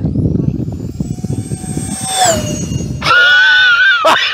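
A radio-controlled A-10 Thunderbolt model jet screams past at full speed, its high whining pitch rising and bending through the pass, then swelling into a loud, harsh roar close by.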